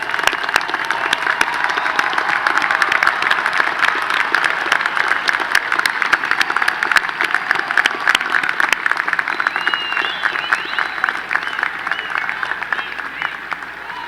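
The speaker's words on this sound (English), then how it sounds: "please stand and let us applaud you." Sustained applause from families, friends and supporters standing at a university commencement for the College of Engineering and Computer Science, steady and dense throughout with a roomy crowd wash and no break.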